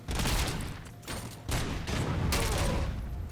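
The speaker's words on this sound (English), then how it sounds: "he got out of range of that explosion" A loud video game explosion, a dense broadband roar that fills the clip with rumbling low end and crackling bursts, dipping briefly twice before swelling again, with no talking over it.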